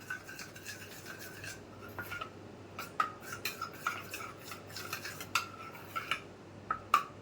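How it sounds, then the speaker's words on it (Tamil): A spoon mixes a coffee powder face pack in a small bowl, making faint, quick, rhythmic clinks and scrapes against the sides, quiet and alone. "ஸோ இப்போ வந்து இதை நம்ம நல்லா மிக்ஸ் பண்ணிடலாம்"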